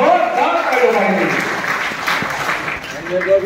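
A crowd claps at a community celebration in a hall, a dense, continuous patter of applause under a voice speaking over it.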